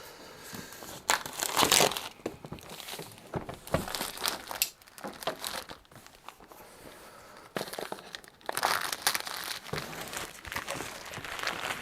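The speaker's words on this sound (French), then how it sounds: "Et puis on y va pour le déballage de cette boîte." Cardboard and plastic packaging of a Puerto Rico special edition board game box being opened with a small tool, giving irregular crinkling, tearing and crunching bursts that come and go close by, with no speech.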